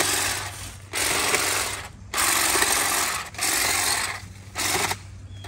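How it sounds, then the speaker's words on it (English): A Saker cordless hedge trimmer cutting small tree branches, heard as four close, loud bursts of buzzing, chattering blade noise separated by brief pauses, with no talking. "So it'll cut some of the smaller branches."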